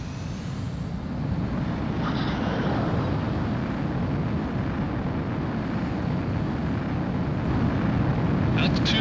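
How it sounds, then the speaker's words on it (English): A fighter jet in the PS2 game Ace Combat 04: Shattered Skies roars down the runway on takeoff, a loud, steady engine rush filling the whole stretch, swelling slightly after the start. "Mobius One, you are cleared for takeoff"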